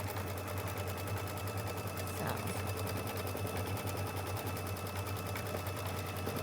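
A sewing machine stitches a small flower onto stabilizer for a quilt block, running in a fast, steady mechanical rattle that stays even and close for the whole stretch without pause.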